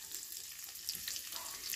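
Green chillies fry in hot mustard oil in a kadhai, giving a soft, steady sizzle with faint crackles, heard alone and fairly quiet.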